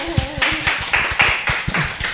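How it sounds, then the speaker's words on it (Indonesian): An audience applauds, with sharp, uneven claps spread over a couple of seconds, loud and close. A short musical tone sounds at the very start. "Lumayan ya tepuk tangannya banyak"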